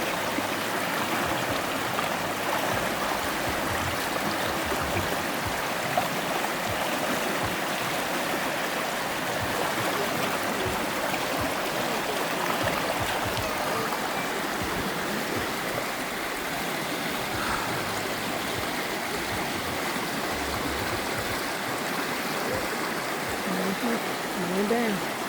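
A river at an old slave site flows steadily in a broad, even wash of moving water beside bamboo trees, with occasional faint voices over the constant rush throughout.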